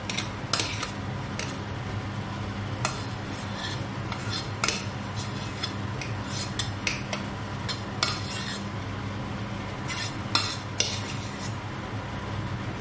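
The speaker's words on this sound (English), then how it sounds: "And now we want to mix that in with the meat and the onions" A utensil stirs corned beef pie filling into cooked meat and onions, scraping and clinking against the pan and bowl in a steady run of close, dry rubbing strokes with occasional sharper taps.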